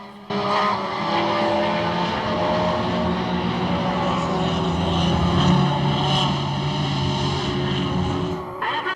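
1960s Formula 1 race cars, a number 6 Ferrari and a number 3 Brabham, roar past on a wet track, their engines howling loudly and continuously with a hiss of spray beneath.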